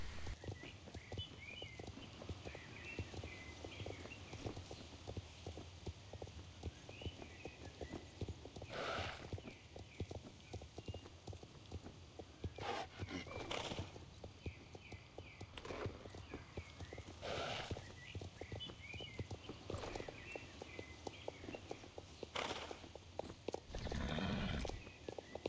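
Horses in the video game Star Stable Online walk with a soft, rhythmic clip-clop of hooves and an occasional whinny, all fairly faint and continuous.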